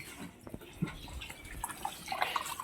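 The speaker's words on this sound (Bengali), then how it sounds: "মা এদিকে ধুয়ে চাল ধুচ্ছে" Rice is washed by hand in water, with close, irregular splashes, drips and sloshing that grow busier toward the end, with no talking.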